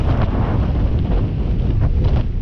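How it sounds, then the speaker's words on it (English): Strong wind gusting across an open moor near Yes Tor on a wet, wild morning, roaring and buffeting hard against the microphone without a break for the whole stretch. "About to get blasted by the wind"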